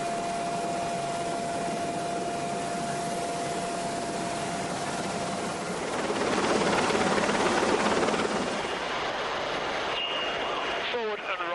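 A rescue helicopter hovers overhead during high line winching, its steady, loud rotor and engine roar filling the scene without pause, with a high whine running through it and a brief patter of sharper sounds near the end.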